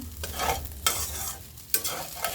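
A sabudana snack mixture is stirred in a pan, giving repeated scraping strokes roughly every second over a soft, steady sizzle, close up with no voices.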